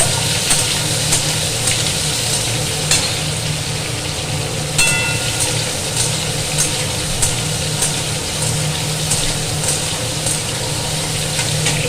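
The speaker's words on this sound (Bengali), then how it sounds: "এগুলো আগে তেলে ভেজে নেবো এগুলো ভালো করে একটু ভেজে নেব" Jackfruit pieces, boiled beforehand, frying in oil in a home kitchen pan, a steady loud sizzle and crackle lasting throughout with no talking.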